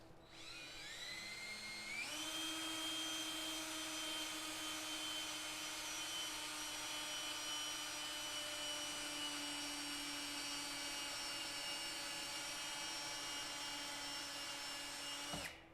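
A power drill spins up and runs in one continuous, whining high-pitched drone while pre-drilling screw holes in oak, winding up in pitch after about two seconds, holding steady, then cutting off at the end; no talking.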